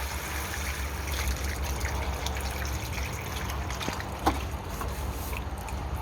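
Rainwater is poured into the cup of an Alcantarea vinicolor plant during repotting, making a soft, continuous trickle and gush with a small splash near the end, close by and quiet, with no talking.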